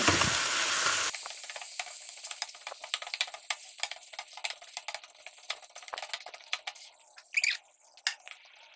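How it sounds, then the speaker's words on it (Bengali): Boiled spinach stirred into tilapia frying in a pan: a loud sizzle at first, then close, irregular scraping and stirring clicks over a steady hiss. "এখন আমি সিদ্ধ করা পালং শাক খুব সামান্য পরিমাণ দিচ্ছি নেড়ে চেড়ে মিশিয়ে নেব"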